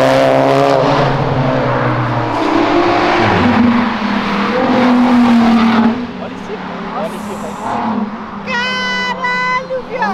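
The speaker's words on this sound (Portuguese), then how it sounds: "Isso é ronco de carro, hein?" Close-up roar of car engines, a Golf GTI and a turbocharged Civic Si, revving and accelerating in rising and falling sweeps, with people talking and exclaiming over it and a high whining tone near the end.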